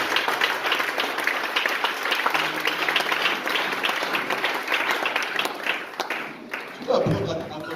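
A church congregation applauds the Lord with steady, dense clapping that runs on, mixed with voices and a brief thump near the end.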